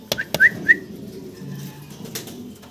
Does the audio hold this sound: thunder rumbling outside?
no